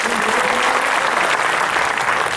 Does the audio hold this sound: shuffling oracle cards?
no